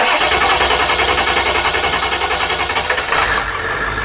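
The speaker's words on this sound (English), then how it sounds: "as you can hear, the engine is running" A large bus engine cranks and catches, then runs with a loud, steady, throbbing idle close by.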